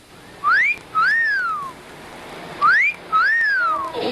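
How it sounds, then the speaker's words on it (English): Two pairs of clear rising-then-falling whistles, each a quick upward swoop followed by a longer downward glide, loud and close with no talking, from a 1978 TV commercial for Playtex's Sport Can Be Beautiful underwire bra. "Let me explain that whistle."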